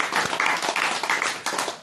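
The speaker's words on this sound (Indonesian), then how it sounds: "Tepuk tangan." Brief burst of audience clapping during an Indonesian religious sermon, a steady patter of many hands lasting under two seconds.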